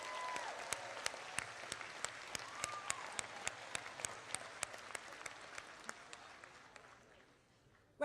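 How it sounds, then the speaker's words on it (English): An audience applauds at a university graduation commencement ceremony, a broad sustained wash of clapping from a large crowd with scattered sharper claps, gradually fading toward the end. "so please give them a round of applause"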